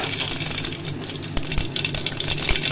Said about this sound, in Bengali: আমি জিরে আর শুকনো লঙ্কা তেলে দিয়ে দিলাম